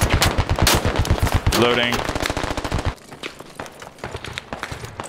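Machine gun fire in the infantry shooter Squad: loud rapid bursts of automatic shots, with more scattered distant gunfire and a voice heard over it.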